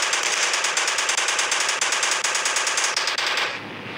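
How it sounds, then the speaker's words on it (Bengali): Rapid machine-gun fire shoots a dinosaur in the Indian Bike Driving 3D video game, a loud, continuous burst of evenly spaced shots that stops abruptly just before the end. "এই গুলি দিয়ে একে মারতে পারবো।"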